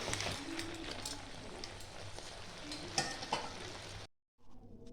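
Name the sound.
pouring tempering into cooking pan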